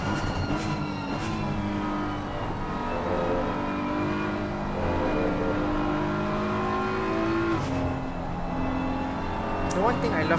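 Onboard BMW race car in a sim racing endurance round at Spa, the engine droning steadily and revving up through its range, with brief tyre squeal near the end and commentators talking over it.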